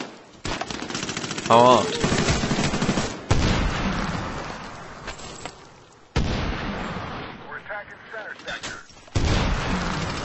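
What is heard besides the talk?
gunfire in video game Medal of Honor Warfighter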